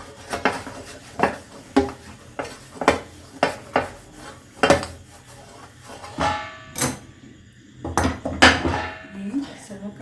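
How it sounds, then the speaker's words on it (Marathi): Repeated sharp metallic clanks and scrapes of a utensil against a metal wok as kaju katli sweet is taken out, irregular and close, with a few softer knocks. "काढून घेते आता कढईतनं"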